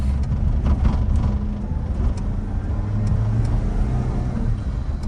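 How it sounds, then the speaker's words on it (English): Interior of a 1996 Mitsubishi Pajero Jr under mild acceleration: a steady low engine drone with rumbling road noise, loud and continuous throughout. "mild acceleration. It's up to 30 really quick."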